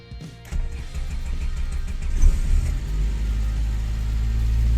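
A car engine cranks and catches after being jump-started with a Maxtools JS500 12 V battery booster, then settles into a steady, close, rumbling idle that grows slightly louder.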